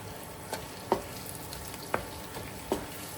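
Chopped onions fry and brown in a pan over medium-high flame for a black-eyed pea curry, with a soft continuous sizzle broken by a few sharp stirring clicks.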